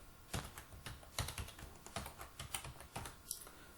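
Keys on a Lenovo computer keyboard clack as a password is typed, a quiet, close series of about a dozen irregular taps with no talking.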